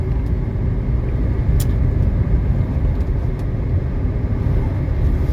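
A 1979 Mercedes-Benz 300SD (W116) car drives on a road, giving a steady, loud low rumble of engine and road noise from inside the cabin, with a few brief ticks and no speech.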